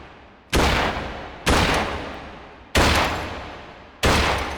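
Four loud, sharp gunshots ring out during a shooting drill, spaced roughly a second apart, each with a long fading echo and no talking.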